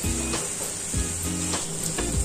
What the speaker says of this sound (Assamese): কিছু সময় লৰাই লৰাই এইখিনি ভালদৰে ভাজি লৈছোঁ